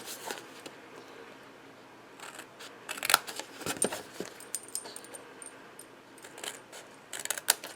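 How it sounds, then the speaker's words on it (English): Scissors cut tabs out of a paper box template in short, quiet snips that come in scattered clusters, close by, with no talk. "I'm going to take this and I'm going to cut these tabs out."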